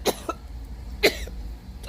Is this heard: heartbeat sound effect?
no